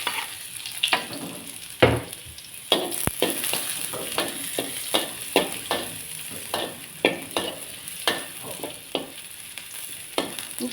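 Garlic frying in a small amount of oil in a pan, with a steady soft sizzle and repeated scraping stirs of a spatula at a moderate pace, close and alone.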